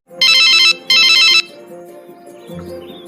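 A phone rings loudly, sounding two bright electronic bursts in quick succession and then falling quiet, with faint room sound afterward.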